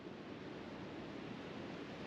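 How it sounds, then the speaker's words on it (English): Ocean waves wash onto a quiet Kauai beach, a faint, steady broadband rush of distant surf with no other sounds. "All you can hear is the ocean."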